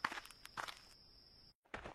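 Soft footsteps approach a nobleman's room in a Korean folk tale, a few light, quiet steps with a faint steady tone behind them, ending in a brief silence.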